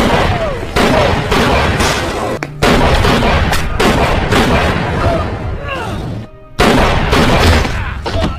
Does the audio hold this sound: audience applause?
no